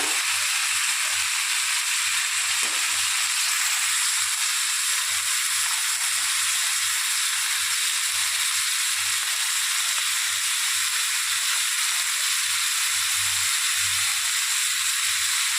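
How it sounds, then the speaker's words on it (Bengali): Continuous hissing sizzle of prawns frying in a hot pan, steady and close, with faint low clunks now and then. "চিংড়িটি একটু ভাজা ভাজা করে নেব"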